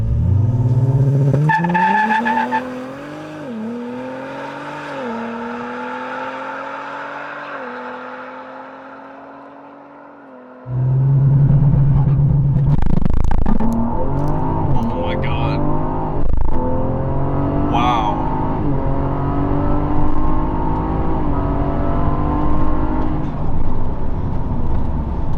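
A 500 HP Ford Explorer ST launching hard with its engine roaring up through rising revs in several stepped gear pulls, loud and close, then a fresh surge of acceleration; people talk inside the cabin over the engine.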